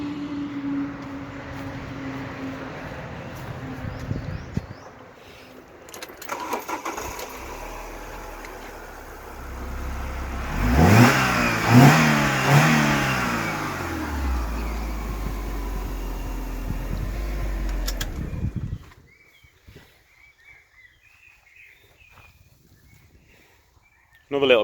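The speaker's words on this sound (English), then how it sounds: "It sounds really nice. Let's start it up for you now." An Alfa Romeo 145 Cloverleaf engine cranks and catches, then revs and settles into a loud, rising and falling roar before cutting off abruptly, with faint voices and background noise around it.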